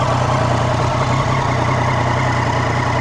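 A pearl white Triumph Daytona 675R motorcycle idles close by, its engine holding a steady, loud, even rumble throughout with no revving.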